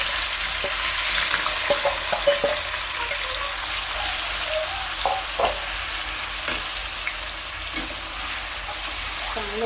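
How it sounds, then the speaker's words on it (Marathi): Vegetables frying in hot oil with whole spices for a chicken biryani, a loud continuous close sizzle with scattered clicks and scrapes from stirring. "तेल तापलं आहे. हे खडे मसाले आहे आणि डायरेक्ट आपण"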